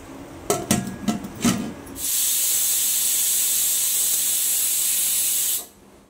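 A pressure cooker holding mutton lets out a loud, steady hiss of escaping steam for about three and a half seconds, then cuts off abruptly; a few metallic clanks come just before.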